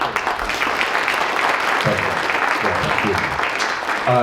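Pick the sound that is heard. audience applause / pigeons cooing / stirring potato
audience applause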